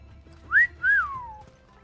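A player in a video game whistles to call the horse Ambrosia: two quick rising-then-falling whistled notes, clear and close over a quiet game backdrop.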